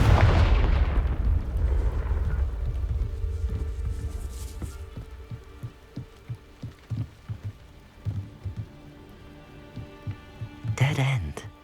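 Confringo fire spell cast in the Hogwarts Legacy video game, a heavy booming explosion that fades into crackling debris and scattered thuds, with a sharp burst near the end.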